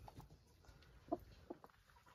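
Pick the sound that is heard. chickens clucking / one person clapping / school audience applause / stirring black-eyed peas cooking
chickens clucking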